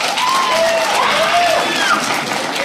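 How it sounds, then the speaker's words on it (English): A comedy club audience claps throughout in a dense, steady patter, with a high-pitched voice squealing over the clapping. "Clap if you have a pet,"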